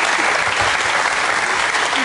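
Dense, steady applause from a studio audience at a live German sports television show, a continuous wash of many hands clapping at full volume with no talk.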